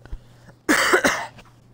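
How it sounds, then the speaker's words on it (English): A man clears his throat with two short, close, rasping bursts in a quiet room while a faint low hum continues in the background. "Clear my throat."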